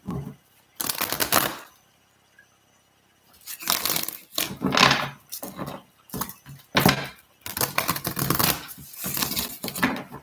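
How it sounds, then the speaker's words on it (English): A deck of cards is shuffled several times in bursts of riffling and sliding, close and moderately loud, with short quiet gaps between the shuffles. "Shuffle these out."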